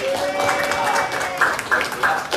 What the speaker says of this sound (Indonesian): Boleh tepuk tangan buat Cancel, luar biasa idenya loh